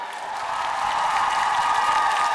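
An audience in a TV sports-challenge studio applauds, a steady wash of many hands clapping at an even level throughout, with faint crowd murmur beneath.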